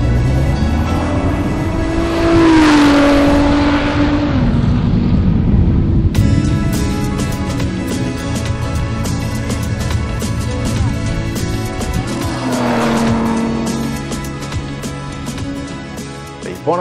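Ford cars driven at full throttle, loud engine roars rising and falling as two vehicles sweep past one after another, with a sharp shift in tone midway and a dense revving drone throughout, no talk.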